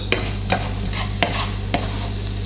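Onions being stirred and broken up in a pan for a Crunchwrap Supreme taco filling, several separate scraping strokes over a steady low hum and gentle sizzle.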